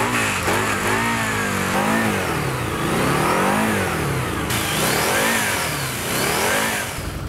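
A Harley-Davidson V-Rod VRSCR Street Rod motorcycle engine revs repeatedly, its pitch rising and falling in strong, loud waves over a steady rumbling idle.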